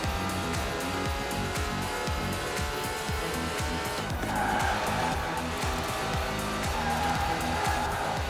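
Ferrari 599XX Evo racing on a wet track in Forza Horizon 4, with a loud continuous engine roar and tire hiss that rises in pitch partway through.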